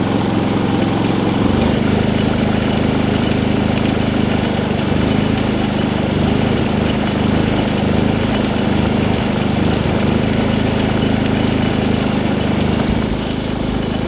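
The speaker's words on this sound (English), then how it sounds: "So I'll just let you listen to the generator here for a second." A Predator 3500 inverter generator idles up close, its engine drone loud and continuous with a slight uneven surging in pitch throughout; no one speaks.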